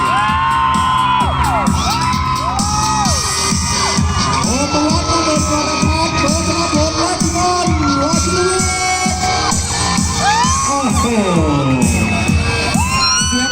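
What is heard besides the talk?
crowd cheering and shouting at Honda Click launch event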